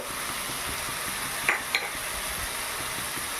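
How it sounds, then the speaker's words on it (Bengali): Ground spices, cumin, turmeric and Kashmiri chilli powder, with garam masala and salt, frying in a pan, a steady close hiss with a couple of sharp clinks from a utensil partway through. "এবারে ভালোভাবে এই মশলাটাকে আমি কষিয়ে নেব।"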